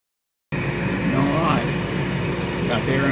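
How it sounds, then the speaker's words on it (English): A 20-watt laser engraver runs with its air assist and a vacuum going, making a constant loud mechanical whir and airflow hiss that starts abruptly. Someone talks over the noise. "Got the air assist on and the vacuum on"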